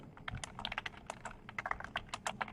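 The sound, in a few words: typing on a computer keyboard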